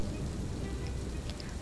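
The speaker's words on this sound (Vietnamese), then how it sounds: "Xen lẫn tiếng sét, tiếng mưa trong đêm," Steady rain falls at night over a small village during a heavy storm, a dense even hiss of drops that stays fairly quiet, with no voices.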